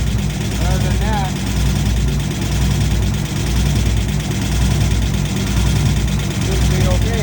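A car engine idles steadily after a head gasket replacement, a loud, even, close rumble held for several seconds with a voice heard over it.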